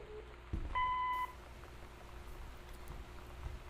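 A single steady electronic answering-machine beep lasting about half a second in Gone Home, clear against a quiet room hum with no talk.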